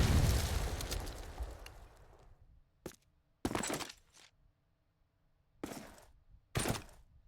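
A grenade explodes in a Call of Duty 2 Search and Destroy match: one loud boom opens and rumbles away over about two seconds, followed by several sharp, separate gunshot cracks.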